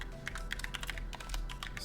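Rapid, close clicking of keys on a computer keyboard while code is entered, an uneven run of light taps with short pauses.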